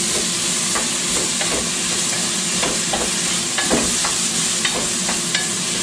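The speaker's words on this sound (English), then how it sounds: "Give it a stir." Asparagus and other vegetables sizzle loudly in a pan while being stirred, with a constant frying hiss and scattered scraping, clinking stir sounds throughout.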